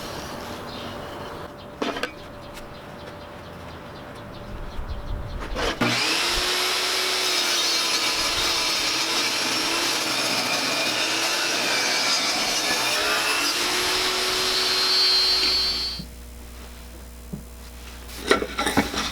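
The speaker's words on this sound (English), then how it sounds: "I already have my blade locked in at 45 degrees, and I'm going to make that cut." Power saw making a 45-degree bevel cut through scrap wood, a loud steady whine lasting about ten seconds between brief handling clunks, then winding down to silence.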